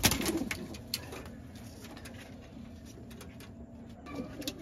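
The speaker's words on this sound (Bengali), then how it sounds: "এটা নর কবুতর।" A male flying pigeon gives soft, low coos at the start and again near the end, quiet and close against faint rustling, with no voices.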